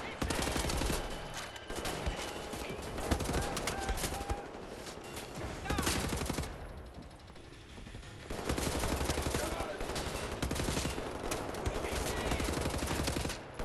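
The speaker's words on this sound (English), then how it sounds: "I'm just kind of shooting wildly" Dense, continuous gunfire from the shooter game Wolfenstein: The New Order, rapid automatic bursts and fusillades running almost throughout, with a brief lull near the middle before the shooting resumes loud and sustained.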